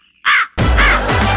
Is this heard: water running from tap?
no